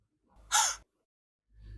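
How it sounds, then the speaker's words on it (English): A short, sharp human gasp, a quick breathy intake rising then stopping abruptly, heard alone and fairly close, followed by a low soft breath. "A short gasp."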